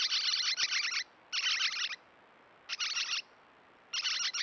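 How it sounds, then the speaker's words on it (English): Swift parrot chicks screech from inside a tree hollow in four bursts of rapid, harsh, high-pitched calls, separated by short pauses over quiet background hiss. "you can hear, if you listen closely, the little chicks screeching away"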